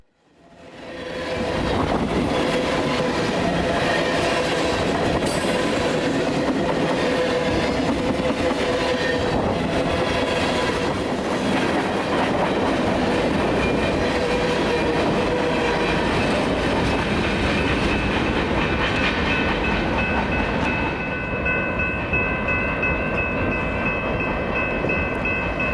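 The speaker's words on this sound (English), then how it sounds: "This train originally stopped briefly just south of my location for an unknown reason, but quickly assumed track speed." A train rolls past at track speed through San Marcos, Texas on a snowy January day, fading in quickly to a loud, sustained roar of wheels and rail clatter with some squealing tones, close and unbroken by talk.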